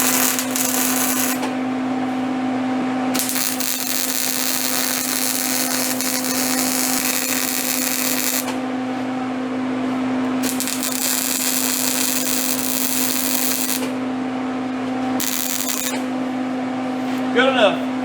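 Welding on the rack and pinion of a 1978 Ford Fairmont produces a steady electric buzz and hum that switches on and off in several long bursts, with people talking over it.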